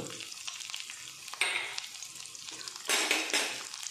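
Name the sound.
dried chilli, bay leaf and fennel frying in pan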